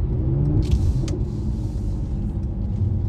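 A 2021 Mercedes C43 AMG under hard acceleration gives a steady low engine rumble heard from inside the car, loud and continuous with a couple of brief clicks, and no talking.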